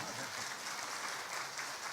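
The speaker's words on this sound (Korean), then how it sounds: "박수 주시기 바랍니다." Brief, dense applause from an audience at a church teachers' conference talk concert, a continuous wash of many hands clapping with no pauses.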